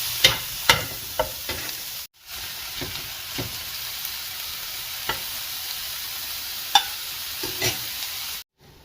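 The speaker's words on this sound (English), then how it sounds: "we're going to give our shrimp a quick toss and then set them to the side" Shrimp sizzle loudly in a hot pan, the steady frying hiss broken by scraping bumps as they are tossed and stirred, with two brief moments where the sound cuts out.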